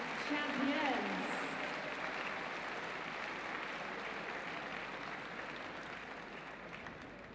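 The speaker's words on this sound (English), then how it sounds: "A massive round of applause for our Madison Chase champions." Crowd applause at a track cycling event after the Madison Chase final, a broad wash of clapping and cheering that holds steady throughout, with a voice over the first moments.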